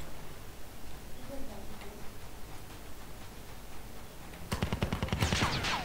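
Rapid bursts of video game gunfire from Call of Duty Mobile crackle in short volleys, loudest near the end, with someone talking over the gameplay.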